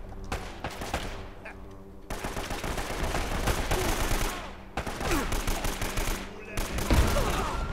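Sustained automatic AK rifle fire in the video game Uncharted: Drake's Fortune, in a customs house level, with loud rattling bursts broken by brief gaps and some game sound behind them.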